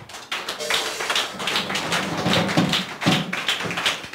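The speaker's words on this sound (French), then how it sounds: "If you want to clap, you clap" A church congregation claps during a prayer service, irregular bursts of hand claps and taps rising and falling in a roomy space, with speech underneath.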